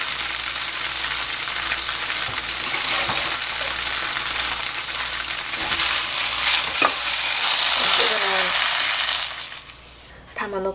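Tofu frying in oil in a pan, with a steady, dense sizzle and occasional stirring or shaking sounds. Near and continuous, fading at the end.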